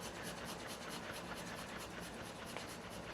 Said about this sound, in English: I'm going to go ahead and freshly grate some Parmesan cheese.